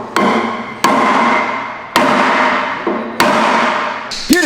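Loud, sharp hammer blows ring out one at a time, about five strikes with a metallic ring decaying between each hit.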